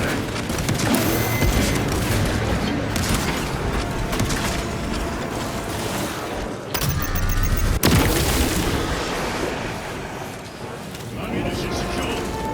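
A frag grenade in Space Marine 2 goes off with a deep boom amid ongoing mechanical battle noise and clattering gunfire, with voices talking over it.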